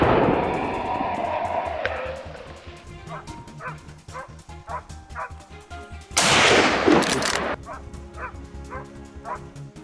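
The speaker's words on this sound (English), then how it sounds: "As the herd entered his line of sight, he opened fire." Gunfire rings out during a wild boar hunt on farmland, with a loud burst of shots amid a noisy outdoor scene full of dog barking and yipping and other voices.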